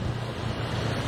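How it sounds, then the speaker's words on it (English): Waves lapping on Jomtien main beach, a steady broadband wash with a low rumble and wind across the microphone, continuous and fairly loud, with no voices. "watching the waves lap on the beach"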